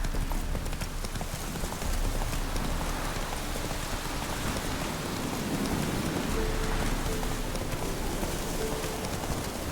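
Roach, the horse in The Witcher video game, trots with steady clip-clop hoofbeats beneath a continuous wash of heavy rain, loud and close throughout.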